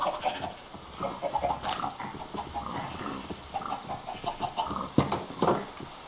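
Minecraft chickens cluck in a game world, a rapid scatter of short clucks and squawks from several birds, fairly quiet and continuous with no talk over them.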